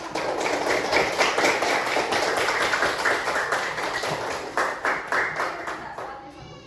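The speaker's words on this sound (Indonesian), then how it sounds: "Tepuk tangan dong." A classroom of fifth-grade students clapping together in a fast, rhythmic burst of applause lasting several seconds, close and lively, fading slightly toward the end.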